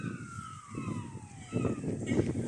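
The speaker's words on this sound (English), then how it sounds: "Can you hear those sirens in the distance?" A siren wails faintly in the distance in Wrexham, Wales, its pitch sliding down, over a low rumble of traffic and outdoor noise.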